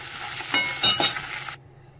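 Whole spices, dried red chillies and bay leaves are frying in hot oil after a fish head was browned, giving a loud, steady sizzle with a few stirring scrapes that cuts off abruptly.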